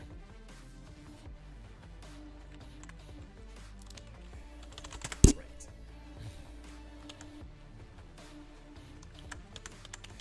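Keyboard shortcuts tapped on a computer keyboard while working in Photoshop 2021 make a continuous run of close, light key clicks, with one louder thump near the middle.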